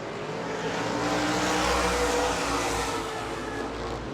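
Race cars roar past at New Smyrna Speedway, a broad, loud engine wash that swells and fades as the field sweeps through a turn, with a steady rumble of track noise.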